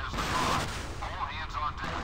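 Gunfire in the naval combat game Modern Warships, a dense continuous rumble of shots and blasts with whooshing passes, steady and loud throughout, with a voice briefly heard beneath.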